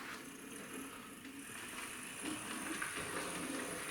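A model train runs along a layout track through a curved point, a faint, steady rolling rumble with light clicks of wheels over the rails, no voices.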